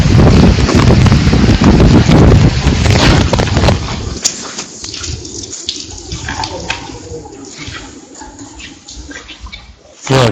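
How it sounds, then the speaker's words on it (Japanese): Heavy rain and gusting wind during a typhoon in Japan, a loud, dense roar for the first four seconds that eases into a steadier, quieter wash, with a brief strong gust near the end. "雨と風の音。"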